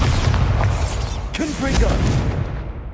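A Bombarda spell blast in Hogwarts Legacy on PS5, a loud deep boom and rumbling blast close by, with a sharp burst midway and booming debris continuing after, while someone speaks briefly.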